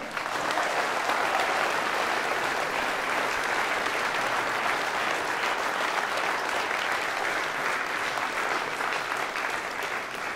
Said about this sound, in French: Je vous demande d'applaudir Fernand Berson